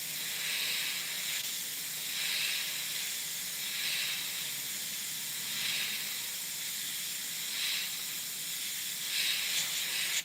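India ink is sprayed from an airbrush onto Bristol board in a soft, continuous airy hiss that swells and eases in short bursts. It is quiet and close, with no talking.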